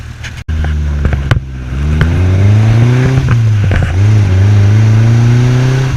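A car engine revs up and holds a steady, loud roar, its pitch rising and falling as the throttle changes, with a brief sharp knock near the start.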